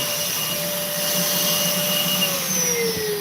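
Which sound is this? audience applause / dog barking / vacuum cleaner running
vacuum cleaner running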